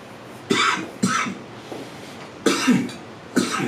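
Several short, dry coughs and throat clearings come in separate bursts from someone close by while a spray hair product is being used on a pixie cut.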